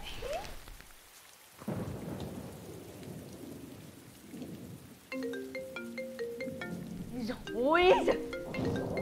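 Heavy rain pours down steadily, with rumbles of thunder rolling underneath, while some tonal sounds and a voice briefly rise over the storm toward the end.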